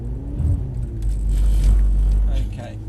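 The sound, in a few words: Mercedes-Benz car braking and accelerating on test track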